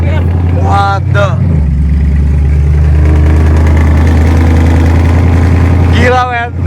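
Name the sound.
motorbike engine revving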